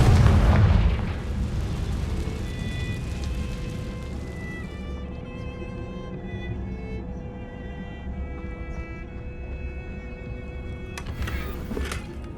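In the Hogwarts Legacy video game, a Confringo fire spell lands with a short, heavy explosive boom, then a lingering rumble and crackle with faint magical tones that fade over several seconds.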